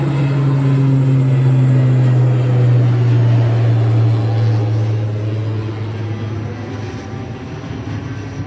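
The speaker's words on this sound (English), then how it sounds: "There's just one of the regional planes going out now." A regional propeller plane departs Dublin Airport with a loud, steady engine drone and a strong low hum that slowly fades as it moves away. No one speaks.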